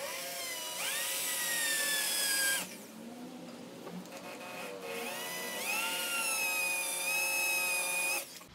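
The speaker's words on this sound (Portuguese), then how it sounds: "vou iniciar com uma broca de 6 milímetros, só para começar" A drill with a 6 mm bit cuts into a workpiece in two sustained whining bursts, each rising in pitch as it spins up, with a short quiet gap between them; no talking.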